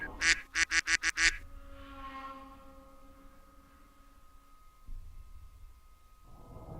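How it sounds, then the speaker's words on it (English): Ducks quacking, a quick run of five or six loud, sharp quacks in a row, then a fading tonal call and near silence with a faint low rumble. "The ducks are coming."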